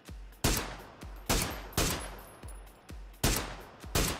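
Gunfire in PUBG Battlegrounds rings out in loud, sharp single shots about every half second, each echoing with a booming tail, with no talking over them.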